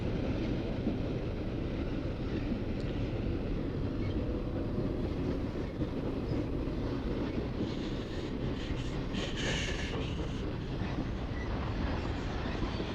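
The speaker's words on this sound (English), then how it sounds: "A stack train." A double-stack freight train rumbles past steadily from start to finish, with a faint wheel squeal rising near the end.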